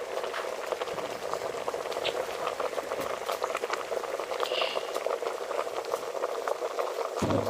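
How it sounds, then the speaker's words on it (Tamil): Jaffna-style fried egg curry bubbling steadily in a pot, a continuous close simmering patter of popping bubbles with no talking. "இப்போ குழம்பு வந்து நல்லா கொதிச்சிட்டு"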